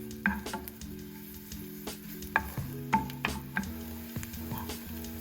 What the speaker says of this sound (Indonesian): tumis bawang merah dan bawang putih hingga harum dan layu